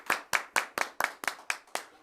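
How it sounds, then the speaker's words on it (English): Applause for a Humanitarian of the Year award at a chamber of commerce annual meeting: about nine crisp, evenly spaced claps from a single nearby pair of hands, without any broader crowd. "A round of applause, please, from all gathered"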